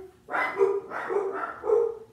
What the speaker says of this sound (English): Okay, so there's a dog outside, and my dogs are obviously alert of it.